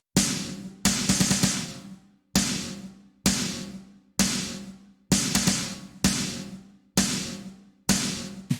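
Three compressed metal snare drum samples layered together hit nine times in a steady sequence, each crack sharp and punchy with a fuller, evenly sustained decay, heard on their own.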